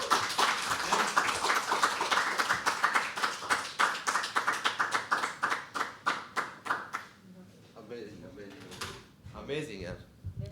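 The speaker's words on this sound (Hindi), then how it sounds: "एक बार जोरदार तालियां काटें यार" Applause from an audience at a live poetry open mic: about seven seconds of dense, close clapping that thins into scattered claps, then a few voices murmur.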